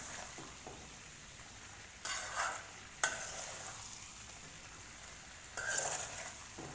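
Spice tempering sizzling in hot oil, stirred in a pan, as a steady close crackle with a few louder scraping bursts from the stirring.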